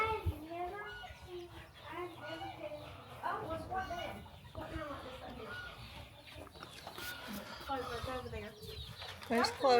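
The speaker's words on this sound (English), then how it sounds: "Naked necks are the ugliest chickens ever." Naked neck chickens cluck and squawk nearby in short bursts, mixed with a child's and an adult's voices talking over the birds.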